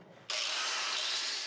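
Flap wheel grinding rust off an old Jeep J10 truck, a loud continuous abrasive whir that starts abruptly after a brief quiet moment and holds steady to the end.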